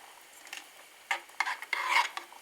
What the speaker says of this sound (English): So I'm just mixing a little bit like that.